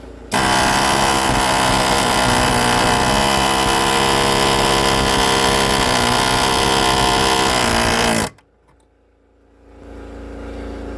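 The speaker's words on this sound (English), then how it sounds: "we air chiseled the hell out of it" An air chisel hammers at a tack weld on a Jeep Cherokee XJ during a lift kit install, a loud dense pneumatic rattle running steadily for about eight seconds before cutting off abruptly, followed by quiet shop background.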